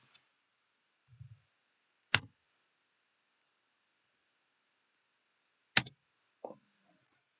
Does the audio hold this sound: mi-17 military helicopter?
no